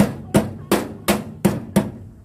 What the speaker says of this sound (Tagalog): Pupukin siya natin ng martilyo.